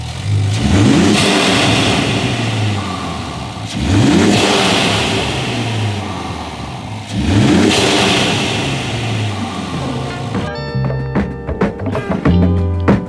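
Ram RHO truck engine fitted with a matte Kevlar carbon fiber air intake, revved hard three times in loud rising bursts, then settling to a rough idle with sharp intake pulses at the end.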